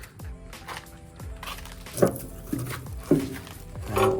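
A small dog moves about beside a barbecue smoker while logs are loaded, giving several short scuffling and whimpering sounds at close range, with occasional clatter from the wood.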